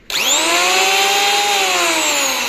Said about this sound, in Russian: этот рубанок вообще отлично для тех, кто левша